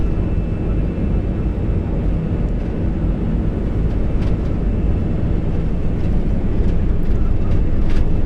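An Airbus A320's engines roar steadily and loudly during the takeoff run, a constant dense rumble that builds slightly toward the end, heard from the cockpit in clear conditions.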